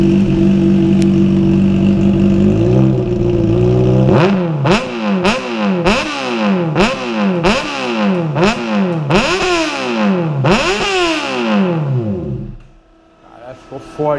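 Honda CBR 600 RR motorcycle with an Atalla exhaust tip, loud and close, idling steadily then blipped through a rapid series of about eight sharp revs, each rising and falling back, before cutting off.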